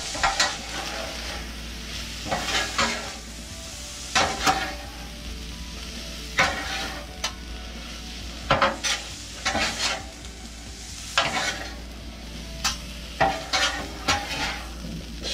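Seasoned taco meat fries and sizzles in a pan while being stirred, with a steady sizzle broken by repeated scraping stir strokes every couple of seconds, close up and without talk.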